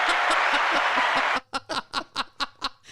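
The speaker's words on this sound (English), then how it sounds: "Cue the applause. Oh, fun with sound effects." Canned applause sound effect fired from a Rodecaster sound board: a dense wash of clapping for over a second, then it cuts abruptly to a string of short, evenly spaced chuckling bursts.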